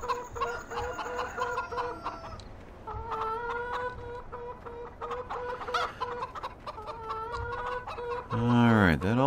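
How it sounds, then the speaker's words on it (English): Chickens in the video game Farming Simulator 17 cluck in a steady run of short calls, fairly close and clear, with a louder squawk at the end. "try not to step on any chickens"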